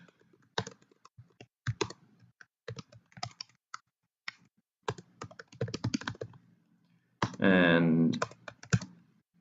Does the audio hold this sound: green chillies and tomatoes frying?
no